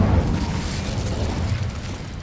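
An Incendio fire spell goes off in Hogwarts Legacy with a dense rushing roar and burst, loud and close, filling the whole moment without any voices.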